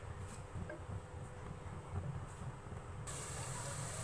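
A medium onion frying in a pan until light pink, with a steady close sizzle and hiss that brightens near the end, quiet and continuous with no voices.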